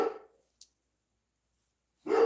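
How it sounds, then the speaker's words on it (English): A dog barks indoors, one bark at the start and another at the end with a faint click between, moderately close and alone without talk. "my dog's barking at something"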